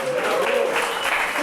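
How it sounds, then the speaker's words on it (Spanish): Brief applause breaks out for Fabi at a Spanish-language church Bible lesson. The clapping is dense and steady across the short moment, with a voice carrying over it. "Denle un aplauso a la Fabi."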